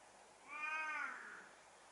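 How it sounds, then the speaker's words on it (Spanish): A female cat gives a single drawn-out meow close by, rising and then trailing off over about a second, with no talking around it. "Esa es mi gata"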